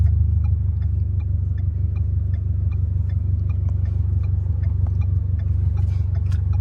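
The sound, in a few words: Ford Fusion car engine running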